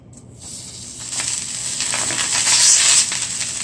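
Butter melting in a pan on a stovetop, a soft hiss that swells into a steady, bright sizzle over a few seconds, close and fairly loud with no voices.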